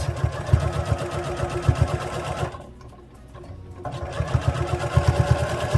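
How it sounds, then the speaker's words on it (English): A sewing machine stitches a straight seam through fabric for a stuffed bear, its rapid needle chatter running steadily, dipping into near-quiet for about a second before resuming at full speed, with no talk. "So I'm going to sew right over that."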